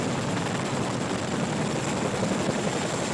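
Helicopter flying over London, a dense steady rotor roar filling the air at constant loudness throughout, no voices.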